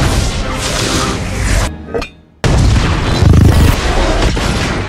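A loud, dense blast of crashing noise fills the clip, cuts briefly to near silence, then resumes with heavy rumbling booms.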